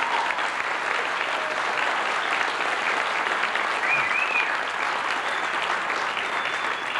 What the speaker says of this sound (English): I think we should give them a round of applause and thank them for coming.